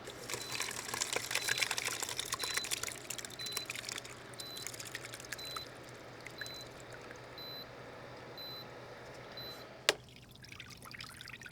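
Cheese curds being poured into a mold make a wet, trickling dribble, strongest at the start and easing off, with one sharp knock near the end.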